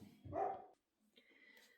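Dog barks indoors in a room where someone is doing cross-stitch: one short sharp bark, fairly faint and a little distant, followed by a brief pause and lower background noise.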